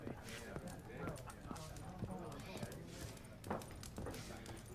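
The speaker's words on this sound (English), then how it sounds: "Get on your horse." Horse hooves clip-clop at a steady pace in The Witcher video game, a soft rhythmic trotting under continuous game ambience while a person talks.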